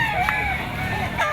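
A chocolate-colored gamecock stag crows nearby at a pet market, a short bright call with a second call starting at the end, over a background of chatter.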